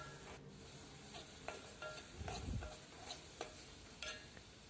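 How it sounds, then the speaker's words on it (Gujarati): A spoon stirs vasheti greens with turmeric in a pan, giving soft scraping strokes and light clinks against the metal over a faint sizzle. The sound is quiet and close, with a brief heavier rustle midway. "અને હળદર નાખીને હલાવી થોડુંક પાકે એટલે મરચું નાખી દેવાનું."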